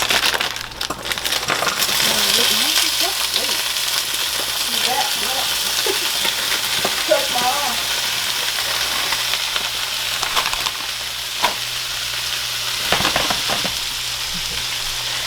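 Gumbo mix sizzling in a hot pot while being stirred, a steady, loud crackling hiss with occasional scraping clinks from the stirring.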